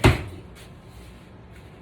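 A kitchen drawer is pulled open with a single sharp knock and clatter of contents, followed by faint rummaging in a quiet room.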